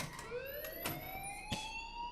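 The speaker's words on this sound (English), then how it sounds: "please turn off that alarm since that's your job" A fire alarm in the video game Life is Strange wails with a rising electronic tone, punctuated by short sharp clicks and clatters, at moderate loudness.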